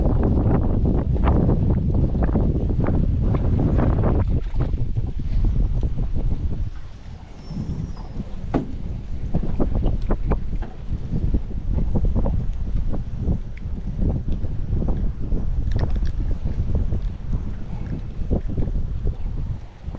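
Wind blows steadily across a fishing boat on Lake Okeechobee, Florida, a loud, buffeting rush against the microphone with irregular gusts and knocks that continues throughout.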